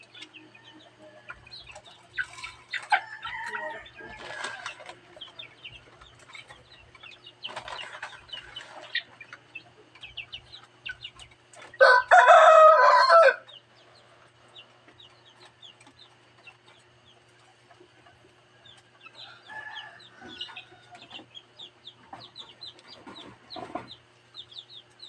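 Chickens cluck and chicks peep throughout a morning feeding, with a loud rooster crow about halfway through and scattered clucks and calls on either side.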